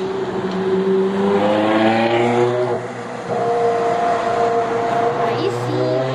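A Ferrari sports car engine roars up close, its pitch climbing, dropping briefly, then rising again; loud and throaty throughout.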